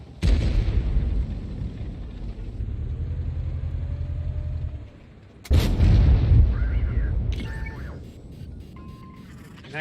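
Heavy booming artillery impacts in World of Tanks, a deep rumbling blast followed by a second loud explosion with lingering low rumble and small mechanical sounds afterward.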